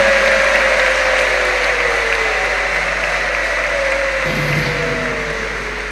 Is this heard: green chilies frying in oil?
no